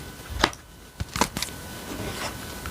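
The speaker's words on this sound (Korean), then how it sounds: "포인트 카드 한 장 더 뽑고 진행하겠습니다." Tarot cards are handled and one is drawn from the deck, giving a few short, crisp papery snaps and slides spaced apart against quiet room tone.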